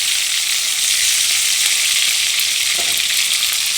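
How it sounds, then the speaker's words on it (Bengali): Fish frying in hot oil in a pan, giving a steady, loud, continuous sizzle throughout with no talking. "দেখো আমার মাছ ভাজা হয়ে গেছে, এখন আমি নামিয়ে নেব মাছ ভাজাগুলো।"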